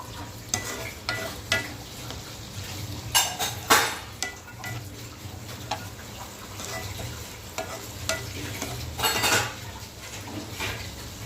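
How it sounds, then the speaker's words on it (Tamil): Sweet potato and beans poriyal stir-frying in a pan, a steady low sizzle under repeated scraping and clinking of a spatula against the pan, with no talking. "சக்கரை கிழங்கும் பீன்ஸும் பொரியல் பாருங்கள்"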